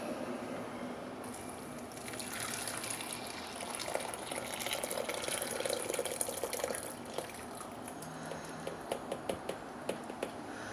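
Freshly boiled water is poured into a homemade laundry soap mixture, giving a steady liquid rush for several seconds that tapers into scattered drips and light splashes, close and fairly quiet.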